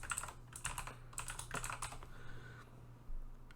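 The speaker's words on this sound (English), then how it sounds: "Sorry for the typing noises." Someone types on a computer keyboard while playing a Magic: The Gathering Jumpstart Historic Horizons match: bursts of quiet clicking keystrokes in quick runs, with short pauses between them and a low steady hum underneath.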